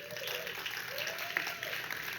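Audience applause for event sponsors, a moderate wash of clapping with a voice speaking faintly over it.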